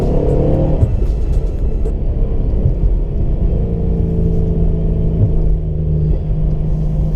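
A supercharged Holden HSV GTSR V8 roars and revs continuously, pitch rising and dropping as it shifts through gears with paddle shifters, loud and close with no talking.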